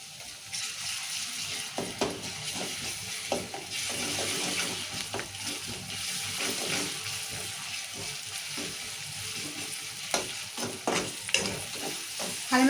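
Onions fry until reddish-brown in hot oil for a spiced potato curry, a steady close sizzle broken by repeated scraping stirs, with no talking.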